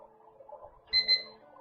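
A kitchen timer beeps while grits cook for breakfast, a short pair of shrill electronic beeps rising over a low background hum, fairly loud and close, with no talking.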